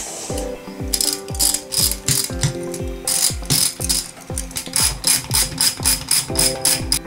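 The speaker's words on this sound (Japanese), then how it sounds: "さあ、これをはめて、で、ボルトで締めます。" A hand ratchet clicks in quick repeated strokes, tightening a bolt over a lock washer on a Yamaha Serow 225 engine during assembly; close, crisp and rhythmic with short pauses between bursts.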